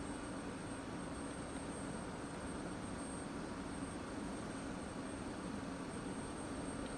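An F-16C jet engine in the DCS flight simulator spools up with a steady, even roar and a thin high whine holding above it, heard close and alone with no voices.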